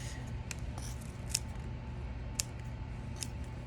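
Scissors trimming the ends of a tied bow on a craft sign: a few sharp, crisp snips ring out close by over a quiet, faintly humming room.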